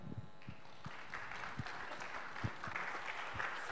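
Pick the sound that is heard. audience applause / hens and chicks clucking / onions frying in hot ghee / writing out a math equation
audience applause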